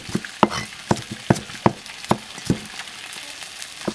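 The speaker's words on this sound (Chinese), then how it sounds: "我的鱼就让它煎在锅里面" A grass carp fries in a pan, giving a soft, continuous sizzle close by. Sharp, evenly spaced knocks run over it at a steady rhythm.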